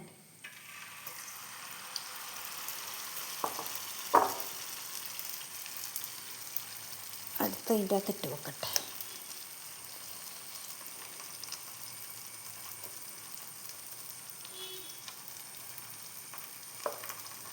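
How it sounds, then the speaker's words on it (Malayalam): Steady sizzling of battered pineapple deep frying in hot oil, with a few clinks and rattles near the start and middle and a brief spoken remark. "ഇതാ ഞാൻ മുക്കി പൊരിക്കുന്നുണ്ട്"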